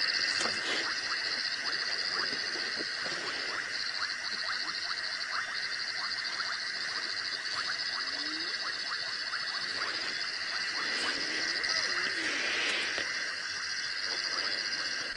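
Frogs call in a dense, steady nocturnal chorus during a sunset safari drive, with overlapping high trilling and croaking held at an even level for the whole stretch and no voices over it.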